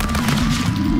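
Gunfire in the video game Stick Fight, a brief loud burst of shots that fills the whole second.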